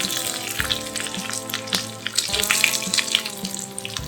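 Dried red chillies crackle and spit in hot oil in a pan alongside mustard seeds, a close, steady frying sizzle with bright pops scattered through it.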